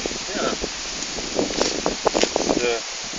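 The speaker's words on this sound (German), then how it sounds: "Die Stöcke fallen schon von den Bäumen runter, denn es ist äußerst windig" Gusty wind stirs leaves and drops sticks in a forest during a walk with a Jack Russell terrier, a steady rustling wash with scattered crackles and soft thumps, close to the microphone with faint voices in the background.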